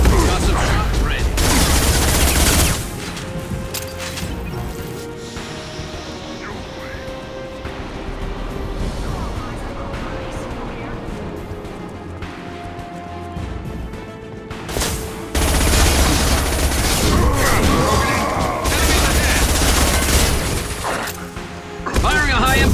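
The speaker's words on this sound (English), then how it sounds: "Firing a high-impact shot!" Gunfire in the video game Mass Effect 2 during a fight against a Krogan, loud sustained bursts at the start and again near the end with quieter combat noise between, under voices.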